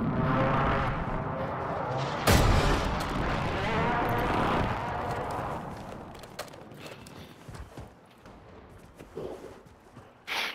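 Heavy Call of Duty gunfire and explosive booms roar in a dense, loud wash with a sharp blast near the start, then fade to scattered distant shots and thuds.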